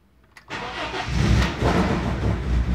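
A car engine cranks briefly, then catches and settles into a steady, rumbling idle that swells slightly, close by with no talking; the engine is running on oil too thick for it.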